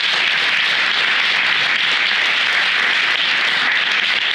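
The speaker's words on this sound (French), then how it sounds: "de sincères applaudissements nous soient adressés" Audience applause at the inauguration of a hearing-aid centre, a loud, dense and continuous wash of clapping from a crowd that holds steady throughout.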